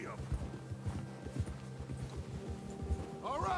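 Horse hooves clip-clop in a rhythmic gallop inside a PS5 video game, a steady run of hoofbeats with a rider's voice and a faint whinny near the end, set under game music and dialogue.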